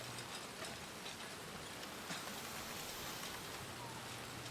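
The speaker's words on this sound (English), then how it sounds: "It's just a little bit of rain." Steady rain falls in Red Dead Redemption 2 as a dense, even hiss with soft scattered drops, heard faintly and without a break for the whole stretch.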